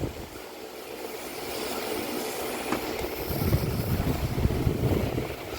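Refrigerant gas escapes from a strong leak in a Nissan Navara's air-conditioning system, producing a steady, broadband hiss close to the microphone that swells louder and rougher in its second half.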